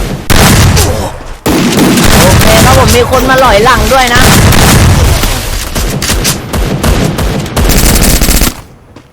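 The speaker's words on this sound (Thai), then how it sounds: "มีการปาระเบิดยอดด้วยนะครับผมระเบิดมาครับผม" Grenade blasts and rapid automatic gunfire in a competitive shooter video game crackle loud and close in dense, continuous bursts, while a commentator talks excitedly over the action before it cuts off abruptly.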